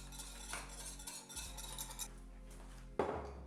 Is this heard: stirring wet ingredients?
yes